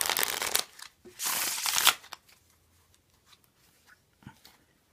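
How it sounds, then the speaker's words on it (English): Liberty Renegades & Rogues playing cards being riffle-shuffled up close, two loud bursts of fluttering card noise followed by a few faint taps and handling sounds. "But I mean, it shuffles, it's good for cards."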